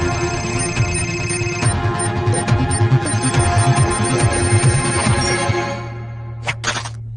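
An electronic phone ringtone trills steadily and loudly for several seconds, then cuts off, followed by a brief burst of another high electronic tone.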